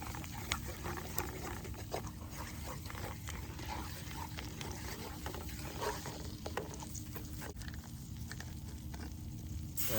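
Flour is stirred into SOS gravy in a pan over a trail stove, giving quiet, irregular scraping and clicking over a low steady hiss of burner and simmer, with no talk.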